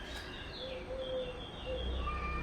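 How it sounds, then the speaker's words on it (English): Faint birds chirping and calling intermittently in the distance near a beach in Cannes, thin high tweets over a low background rumble. "do y'all hear the birds?"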